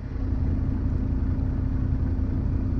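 A diesel engine idles at a raised speed during a forced DPF regeneration, a steady low mechanical rumble with an even hum and no voices.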